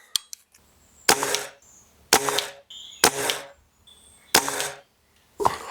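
Five sharp shots from an Air Arms TX200 air rifle fired at a target, each a crisp crack with a short ringing tail, spaced about a second apart, with faint clicks in between.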